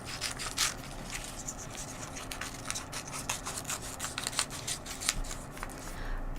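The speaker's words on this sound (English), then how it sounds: "I'm just going to cut out more of these mushrooms" Scissors cut out paper mushroom shapes for a collage, a soft continuous rustle of snipping and shuffling paper with brief crisp cuts, close and fairly quiet, with no talking.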